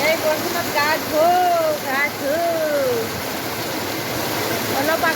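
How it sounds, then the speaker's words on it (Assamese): Heavy rain pours down in Guwahati as a dense, steady rushing hiss that fills the whole scene, with a voice talking over the downpour. "আমাৰ গুৱাহাটীত কেনেকুৱা বৰষুণ দি আছে"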